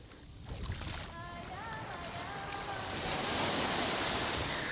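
Sea waves wash and roll steadily, growing slightly louder toward the end, with wind buffeting and a faint voice or tonal sound partway through.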